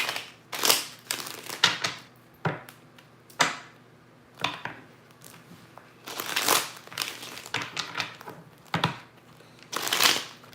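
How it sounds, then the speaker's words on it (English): A deck of tarot cards being shuffled by hand, close and clear, in a series of irregular papery riffles and slaps with short pauses between bursts, no talk. "let me shuffle this deck up"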